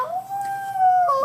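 A voice imitates a coyote howl, one long sustained wavering tone that holds steady, then dips and rises again at the end, close and fairly loud.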